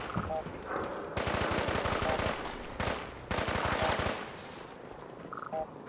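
Companion Piper firing in Fallout 4: rapid machine-gun bursts, two sustained strings of shots separated by a short pause, loud and close, with faint tonal game sounds at the start and end.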